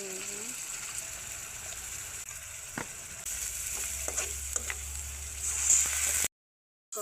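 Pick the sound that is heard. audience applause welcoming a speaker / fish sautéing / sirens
fish sautéing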